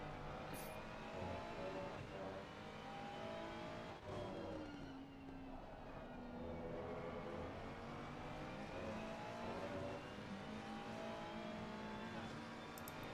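GT3 race cars overtake one another in a racing video game, endurance racing at Valencia, with several engines droning and rising and falling in pitch together as cars pass, steady and fairly loud throughout.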